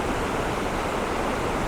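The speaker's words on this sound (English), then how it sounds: "it's more a weir man-made rather than natural, but it's a very different sort of waterfall to the previous" Water pouring over a man-made weir on a river, a dense, steady roar of rushing water heard up close with no pauses and no voices.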